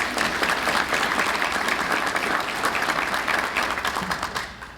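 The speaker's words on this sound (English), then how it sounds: "Let's give her a big round of applause." Audience at a business annual meeting applauding a staff member, a full steady round of clapping that tapers slightly toward the end.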